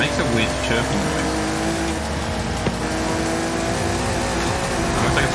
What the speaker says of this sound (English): The one thing about this car is it makes a weird chirping noise.